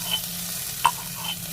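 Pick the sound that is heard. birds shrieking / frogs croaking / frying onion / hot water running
frying onion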